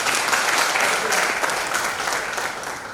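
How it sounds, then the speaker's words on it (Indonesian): An audience at a guest lecture in a university hall applauds a visiting doctor, producing dense, sustained clapping from many hands that fills the room and fades slightly toward the end. "Kita berikan aplaus untuk Dr. Hikmayani"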